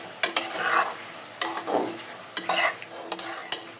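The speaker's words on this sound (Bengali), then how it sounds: "মাছগুলোর সাথে একটু ভালোভাবে নাড়াচাড়া করবো 2-3 মিনিট।" Fish pieces are stirred through sizzling masala in a pan, with repeated spatula scrapes and taps against the metal over a low frying hiss, arriving in rhythmic bursts; no one speaks.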